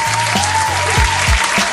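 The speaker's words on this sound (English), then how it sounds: "Clap it up for Deacon Whoop." Studio audience applause for a morning show host, loud, close and continuous clapping and cheering with a few deep thumps underneath.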